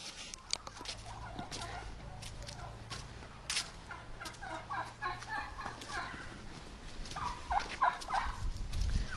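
Turkeys gobble in a village yard in repeated rapid, warbling bursts that overlap across the clip, moderately close, with steady outdoor background noise and no talking.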